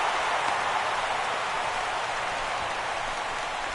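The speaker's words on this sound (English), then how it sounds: "you really can't take anything for granted out there when you're playing in the rain" Rain pours steadily during an April 2016 Twins–Orioles baseball game at Baltimore, a dense continuous hiss of falling water with no break across the moment.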